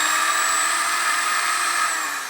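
An electric drill powered from a home solar battery setup whines steadily at high speed, loud and close, with a constant motor tone that holds for a couple of seconds and eases slightly at the end.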